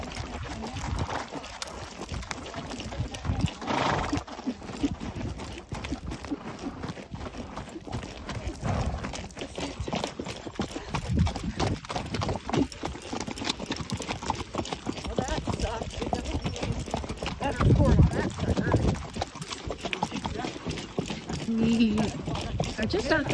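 Several horses setting off on the Tevis endurance ride near Soda Springs walk along a blacktop road, their hooves clip-clopping in a steady, dense patter against wind buffeting the microphone.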